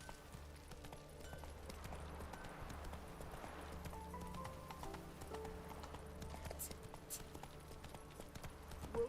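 In The Witcher 3: Wild Hunt, the horse Roach clip-clops steadily along, hooves beating in a soft, even rhythm beneath a faint ambient game soundscape.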